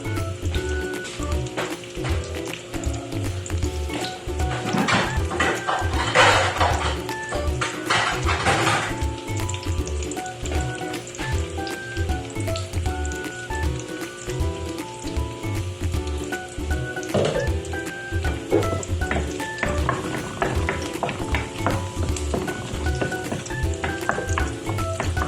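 Garlic sizzles steadily in moderately hot cooking oil in a pan, a continuous crackling fry with occasional scraping and stirring clatter, close and fairly loud, with no talk.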